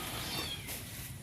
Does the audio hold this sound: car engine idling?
no